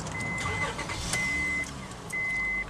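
A 2002 Honda Odyssey fires up just after new spark plugs are fitted: a short cranking catch settles into a quiet idle, with repeated dashboard chime tones sounding around it.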